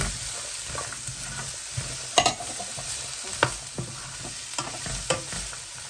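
Sliced onions and garlic frying in a pan for a pork ribs stew, a continuous sizzle with scattered scraping clicks of a utensil stirring, close and alone without talk.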